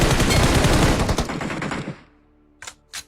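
Rapid automatic gunfire from PUBG Mobile on the snowy Erangel map bursts loudly for about two seconds, then cuts off, followed by two short, sharp reports.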